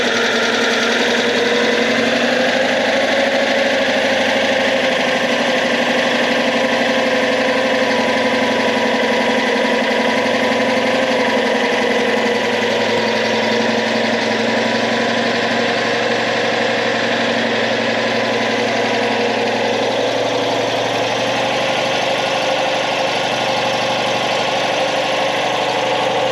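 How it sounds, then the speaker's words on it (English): A Citroen 2CV engine fitted in a restored French Foreign Legion Lohr Fardier military vehicle idles steadily, a loud, continuous throbbing drone with a slight knocking texture, holding constant throughout with no voices. "let's just listen to the engine running"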